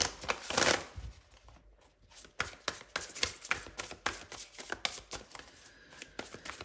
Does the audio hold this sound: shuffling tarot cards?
yes